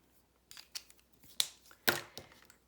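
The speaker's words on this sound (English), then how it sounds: "And we are gonna cut him out." Scissors snip through paper while a Santa hat shape is cut out: five or six short, crisp cuts at uneven intervals, close and fairly quiet, with no talking.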